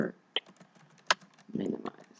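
A few scattered keyboard clicks and key taps sound close by, interspersed with brief murmurs of a voice.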